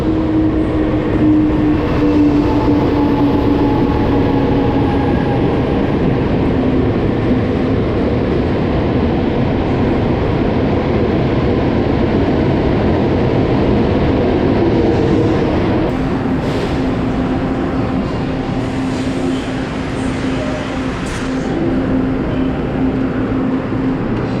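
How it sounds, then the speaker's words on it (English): A local train arriving at a station in Kaohsiung rumbles and rolls steadily nearby with a low, continuous roar and faint wheel clatter, slowing slightly, with no talking. "The local train is arriving, but not this one."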